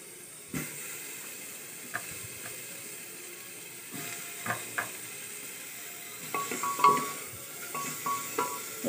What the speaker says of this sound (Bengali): এবার দিয়ে দেবো টমেটোগুলো।